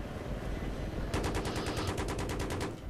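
Rapid automatic gunfire in Battlefield 3 during a jungle Vietnam co-op mission, a loud steady burst of evenly spaced shots cutting in partway through over a dense, noisy battle bed, with no talk.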